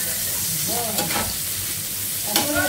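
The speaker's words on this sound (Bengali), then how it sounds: "পাঙাশ মাছ ভুনা করবো, ওই জন্য ভেজে নিচ্ছি" Pangas fish frying in a pan gives a soft, continuous sizzle, with brief stirring scrapes and clinks near the start and end.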